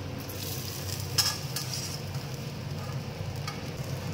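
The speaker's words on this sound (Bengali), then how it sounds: "এইভাবে আমি সবকটি ভেজে নেব।" Rosbora sweet fritters sizzle steadily in hot oil, a constant frying crackle with a few soft clinks of a spoon or utensil, moderately close and with no talking.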